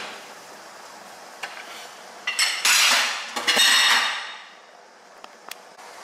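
A metal lid is set back onto a simmering pot of baby potatoes, giving a cluster of close metallic clanks and scraping rattles lasting about two seconds, with a few lighter clinks before and after.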